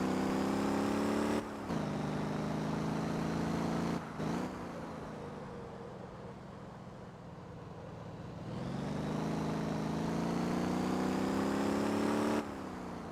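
A car driving and braking in the video game Motor Town: a steady engine drone with clear tonal harmonics that drops off and returns several times as the car slows and picks up speed again.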